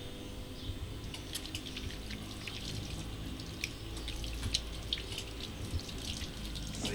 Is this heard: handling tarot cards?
no